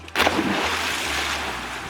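A scuba diver in full gear drops into the sea off Xiaoliuqiu. A sudden close splash gives way to a steady rushing, bubbling wash of water, with no talking.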